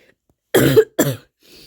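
Two short, harsh coughs in quick succession, close and fairly loud, followed by a faint breathy exhale.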